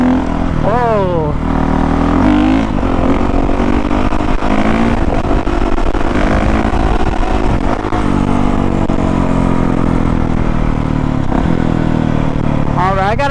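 A 2019 Honda CRF450R dirt bike engine revs and climbs through the gears on a ride, loud and close with rising and falling pitch sweeps, while a rider talks over it.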